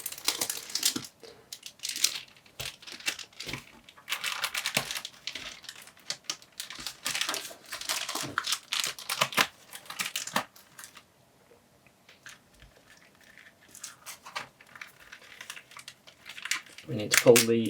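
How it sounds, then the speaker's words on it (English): Backlight panel being peeled off the back of a MacBook Pro 13-inch A1502 keyboard, giving repeated crinkly, crackling tears and scrapes in bursts at close range, then a quieter stretch, with a brief voice at the end. "we are just going to pull the backlight off the back of the keyboard"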